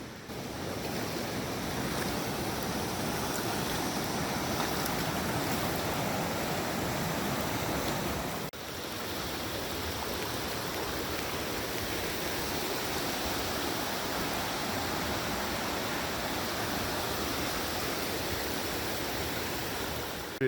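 Mountain stream on the Loyal Sock Trail, water rushing continuously in a dense, steady wash of noise with no other sounds.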